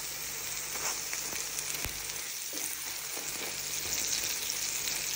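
Tomato slices sizzle and fry in a pan beside an eggplant omelet, a steady dense crackle with occasional pops and faint utensil taps, close and continuous with no talking.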